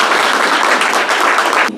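Steady, loud applause from an audience at an ROTC association's annual general meeting, sustained clapping without voices for a couple of seconds before cutting off.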